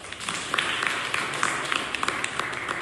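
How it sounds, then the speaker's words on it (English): Students in a classroom giving themselves a round of clapping, a brisk, fairly dense patter of many hands with a few sharper individual claps standing out, close and steady throughout with no talking over it. "So all of you give a clap for you all of selves"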